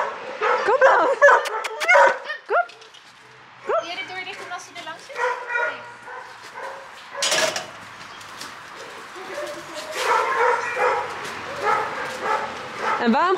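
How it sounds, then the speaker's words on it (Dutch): Dogs at an animal shelter bark and yip repeatedly in a busy chorus, with whimpers mixed in, close by and loud, while people talk over the kennel noise. "Wat is dat nou, dat blaffen van die honden?"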